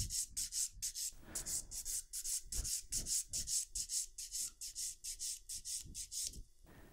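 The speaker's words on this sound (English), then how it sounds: "My fourth step in filing is the top of the nail in the cuticle area. Bevel down on the side, cross the top, down on the other side. Nice long strokes." A file works an acrylic nail near the cuticle in long, steady back-and-forth strokes, a close, rhythmic rasping that repeats about three times a second with no talking.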